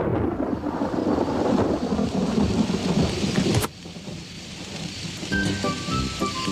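Steady rain patters on a damp, drizzly early morning while a thunderclap cracks and rumbles midway, followed by quieter rainfall with a faint high tone near the end.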